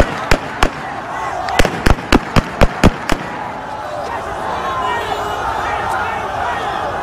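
Live gunfire cracks out at a street protest in Aleppo: a burst of about nine sharp, loud shots, a couple at first and then a rapid string, over a murmuring crowd that continues after the shooting stops.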